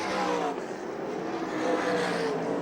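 360 sprint cars racing on a dirt track at a USAC/CRA event, a continuous loud engine roar of several cars with shifting whining pitch throughout.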